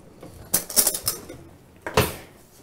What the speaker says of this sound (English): let me find for you a little spoon